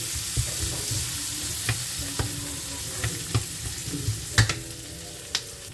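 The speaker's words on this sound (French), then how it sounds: "on laisse bien griller l'oignon comme ça" Chopped onion fries in a pan with a steady, close sizzle, broken by light scrapes and taps as it is stirred now and then; no one speaks.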